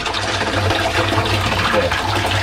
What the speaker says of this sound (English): flowing to barrel number 3 through this pipe